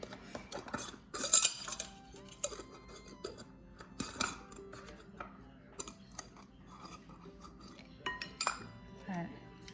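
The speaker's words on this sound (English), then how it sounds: "Let's put the lid back on everything." Lids being put back on seasoning containers during cooking, a series of light plastic clicks, taps and clinks scattered irregularly at close range, with some faint kitchen handling noise between them.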